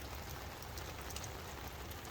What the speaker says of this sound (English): what do we do when it's nothing but rain and rain and rain and more rain?